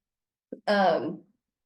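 A single short, harsh cough with a brief catch just before it, close and isolated in silence.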